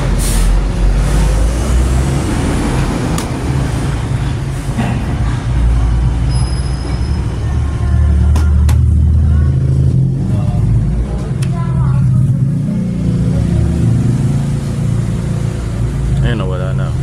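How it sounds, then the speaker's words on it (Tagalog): Loud, continuous roadside traffic rumbles nearby, with engines, passing vehicles and occasional squeals and clanks. Someone talks throughout the din. "Maingay po, nasa tabi tayo ng kalsada."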